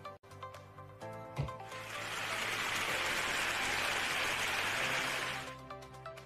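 An audience applauds a student speaker at a 2020 CDC competition winners event, a dense sustained clapping that swells after a brief opening and then fades away near the end.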